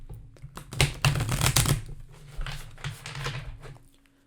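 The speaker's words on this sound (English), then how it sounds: "we're going to go ahead and do the first shuffle now" A deck of tarot cards shuffled by hand, a run of quick papery riffles and flutters building to a dense burst in the middle, then tapering off, close and clear with no talk.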